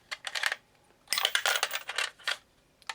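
Coins clinking and rattling inside a Darth Vader talking piggy bank, a quick cluster of bright metallic jingles, a brief pause, then a longer tumbling run of clatters, close and fairly faint.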